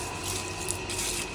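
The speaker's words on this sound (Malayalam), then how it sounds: "ആരാ വെള്ളം ഒഴിക്കുന്നത്?" Water poured at home, a steady splashing trickle running continuously at close range with no talk over it.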